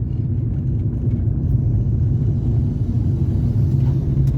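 A car's air filter intake gives a deep, continuous droning whoosh, loud and close, steady throughout with no voices.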